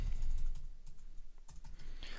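Faint, irregular keystrokes on a computer keyboard tap out a short entry, quiet and close over a low background rumble.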